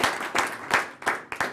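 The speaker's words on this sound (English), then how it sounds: "quick round of applause for Neil" Short burst of audience clapping for a speaker at an energy industry event, uneven and sparse with a few distinct claps standing out, lasting under two seconds before fading.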